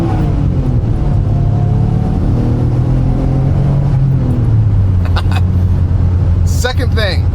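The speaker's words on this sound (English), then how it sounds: "That cold air intake sounds amazing." A Nissan Stagea 260RS fitted with a cold air intake revs up close and loud, its engine note sinking as the revs fall, over a constant broad rush of intake and road noise.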